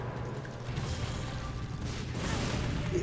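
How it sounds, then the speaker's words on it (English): Video game explosions roar as a dense, continuous wall of booming noise with heavy low rumble and crackling debris, loud and close throughout with no clear gaps between blasts. "Oh, look at the size of these explosions."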